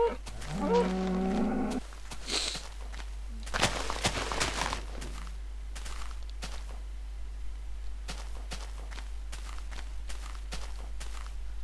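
Cows in the Minecraft video game give short blocky moos near the start, followed by footsteps and scattered thumps of a player moving and striking, over a steady low game hum.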